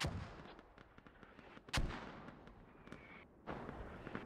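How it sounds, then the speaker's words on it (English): Mortar fire in the video game Squad: a few heavy booming blasts, one sharp and loud near the middle and another toward the end, over a low rumbling battlefield bed with scattered distant cracks. "If you sit still and try and push through, those mortars are gonna zero in on you"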